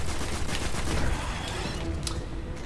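Rapid, dense gunfire in Destiny: Rise of Iron, a continuous loud barrage of overlapping shots with no pause and no talking.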